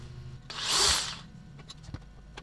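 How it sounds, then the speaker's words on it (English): A power drill match-drills a hole for side sliders on a UTV trailer, a single brief whirring burst that swells and fades over about a second, close by, followed by light handling clicks. "now I'm going to have to match drill in reverse"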